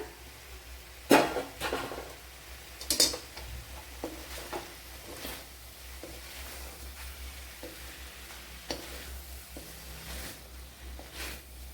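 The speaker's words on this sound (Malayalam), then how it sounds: "അതിലേക്ക് നമ്മുടെ ഈ കോളിഫ്ലവർ ഇട്ട് കൊടുക്കാം" Cauliflower tipped into a pan of cooking carrots and stirred, with a couple of clattering knocks of utensil against pan followed by soft scraping and faint sizzling.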